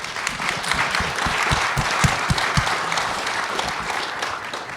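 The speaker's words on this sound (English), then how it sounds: "join me in another round of applause" An audience at a panel discussion on eliminating unnecessary state regulations gives the panel a round of applause; loud, sustained clapping with a few sharp, close hand claps standing out near the start.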